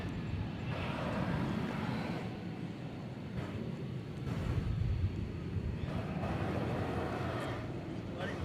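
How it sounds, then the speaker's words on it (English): A Spirit Airlines Airbus A320neo jet at DFW Airport gives a steady, broad engine roar that holds throughout with slight swells, heard at a distance outdoors at night. "Airbus A320neo, Spirit Flight 837."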